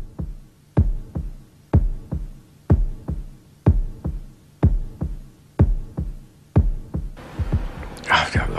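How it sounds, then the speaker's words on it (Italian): A heartbeat sound effect from Pink Floyd's The Dark Side of the Moon, with deep, regular thumps at roughly one per second. The thumps carry on evenly and are joined near the end by a rising, airy wash. "Credo che sia semplicemente il battito di un cuore che sta a rappresentare un suono umano"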